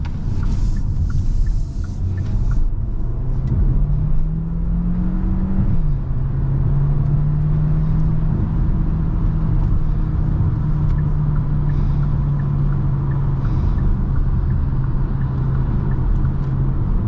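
A 2023 Kia Sportage Hybrid with a 1.6-litre turbocharged four-cylinder drives along, heard from inside as a steady low cabin rumble with a rising whine that steps and then holds, plus road noise; no talking.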